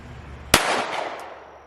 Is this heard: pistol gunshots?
yes